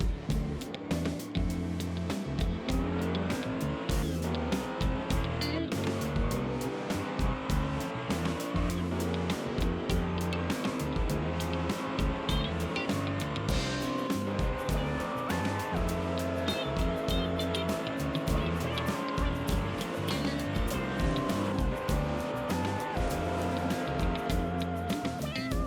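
Hot Wheels die-cast cars, including a Cherry Blossom 240Z and a Subaru, racing down a track, heard as a dense continuous rattling clatter with rhythmic repeating thumps, steady and close throughout.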